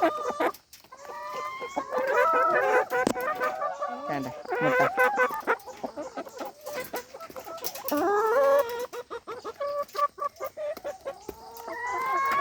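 Hens cluck repeatedly and close by, with a rooster-like crow mixed in, while a person speaks briefly over the busy flock of laying hens.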